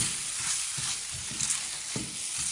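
Flour stirred into a softened mixture in a frying pan sizzles steadily, with soft scraping strokes of the spoon repeating every half second or so, close and alone.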